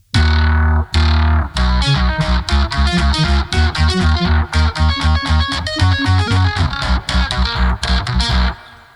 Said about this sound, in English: turn down the tone, turn up the distortion